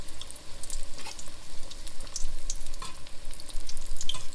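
Battered chocolate frying in hot oil, a steady close sizzle and crackle with small bubbling pops, no voices.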